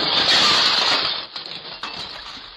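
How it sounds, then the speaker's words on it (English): A glass front door shattering with a loud, sustained crash of breaking glass, followed by two smaller clinks and crunches of debris. "jumped through my glass front door"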